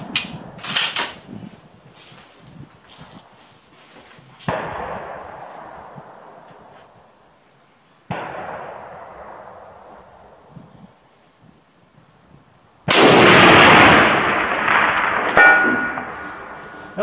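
Rifle shots from a Finnish M39/43 sniper rifle fired outdoors on a long-range course, two sharp loud reports with a long decaying echo between them, the last one the loudest.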